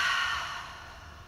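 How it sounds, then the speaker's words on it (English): A single long exhale through an open mouth during a yoga practice, breathy and airy, strongest at the start and gradually fading. "Open your mouth, exhale."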